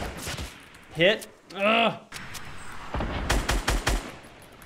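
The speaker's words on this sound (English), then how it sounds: "There's like a four-way sniper fight going on right now." In a Fortnite match, several sniper shots and bursts of gunfire crack out in quick clusters near the end, with a player's brief exclamations and grunts heard before them.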